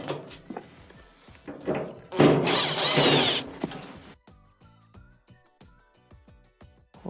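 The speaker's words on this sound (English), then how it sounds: "Remove the 2 Phillips screws" A power screwdriver backs Phillips screws out of a clothes dryer's panel: one loud, close whirring burst of about a second, with light clicks and handling knocks before and after.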